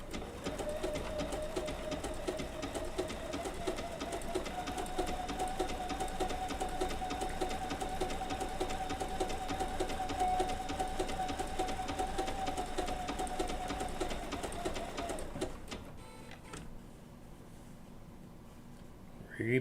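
A Bernina B790 PRO sewing machine stitches wool applique with a 20C open toe foot in a steady, close, continuous whir for about fifteen seconds, then stops, leaving quiet room tone.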